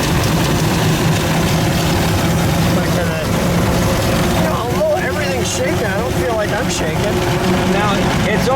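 A 1905 Mitchell D2 car engine lugs in high gear, a loud, steady low rumble with heavy vibration heard from on board while driving, with some wind noise over it.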